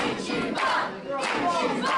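A wrestling arena crowd roars and chants in rising waves, a loud sustained mass of voices urging a wrestler named Ichiban on.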